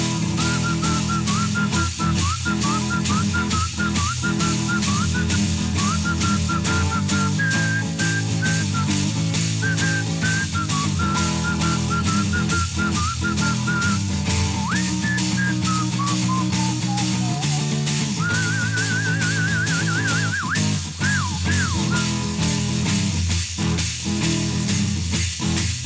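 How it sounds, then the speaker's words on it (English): Whistled melody played solo in a studio over a full band backing, the clear tune running through with slides and trills, close and prominent throughout. "One more whistling solo."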